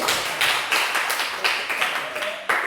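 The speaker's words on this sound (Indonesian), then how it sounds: "Beri tepuk tangan lagi." A classroom of students claps, the applause coming in uneven bursts of hand claps, fairly close, without speech.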